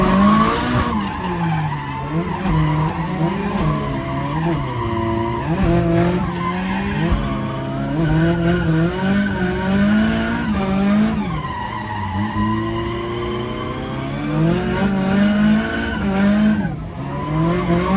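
A 440 whp Nissan SR20 Bluebird drift car slides around a track. Its engine wails and rises and falls continuously while the tyres squeal loudly throughout.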